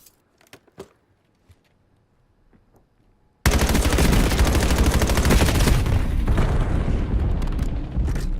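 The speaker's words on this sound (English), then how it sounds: "Gun battle from top green, top blue." Heavy automatic gunfire erupts suddenly in a video game match on the Scar Overload map after a near-silent stretch, a dense, loud, sustained barrage of rapid shots and booms.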